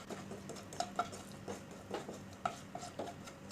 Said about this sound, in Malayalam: ഇതിലേക്ക് അണ്ടിപ്പരിപ്പ് ചേർത്ത് ഒന്ന് വറുത്തെടുക്കാം.